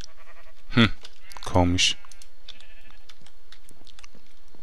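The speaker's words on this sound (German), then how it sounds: "Hier ist ein Schaf." A sheep in Minecraft with the Pixelmon mod gives two loud, close, wavering bleats, one right after the other. A brief spoken word and some keyboard typing can be heard faintly in the background.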